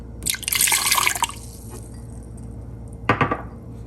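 Lemon juice poured into a pot for a white bean sauce, a brief splashing stream in the first second, then quiet and a single hard knock of a container near the end.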